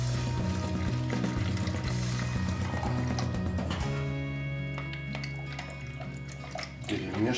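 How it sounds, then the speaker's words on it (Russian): Water pours into a container of maggots, a loud, gurgling stream that runs continuously, then thins and softens toward the end. "Опять набираем воду."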